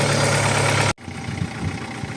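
Audi 80 engine idling with a knock, a loud steady running drone that suddenly cuts to a quieter rumble with faint irregular pulsing.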